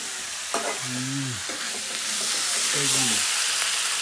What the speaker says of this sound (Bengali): এই যে মা রান্না করতেছে, কি রান্না করে দেখি একটু